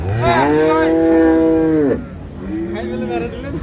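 A dairy cow lows at a rural cattle market in Amberi, Dinajpur. It gives one long, loud, close moo, then a second, softer moo follows after a short pause.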